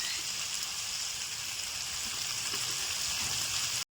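Chopped onions frying in oil with two dried red chillies, a steady broadband sizzle close up that holds evenly throughout with no talk over it.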